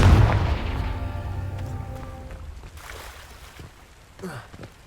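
In Hogwarts Legacy, a Confringo blasting spell detonates as a loud, deep boom right at the start, then rumbles and rings away over several seconds, with a faint later thump and some light movement noise.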